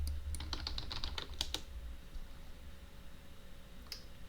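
A computer keyboard clatters in a quick burst of close, light keystrokes for about a second and a half, then falls quiet before one last faint tap near the end, with no talking.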